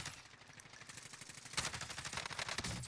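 In the Warzone video game, a machine gun sprays a full 60-round magazine in one rapid, unbroken burst of gunfire that grows louder about halfway through.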